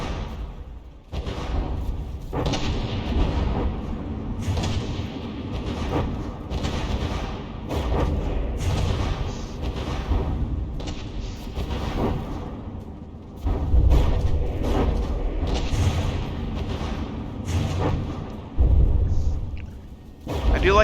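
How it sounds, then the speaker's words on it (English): Warships trading broadside gunfire in a naval battleship video game, heavy booming salvos going off repeatedly and irregularly, loud and rumbling with short gaps between blasts. "I do like how they're just broadsiding and slugging it out, though"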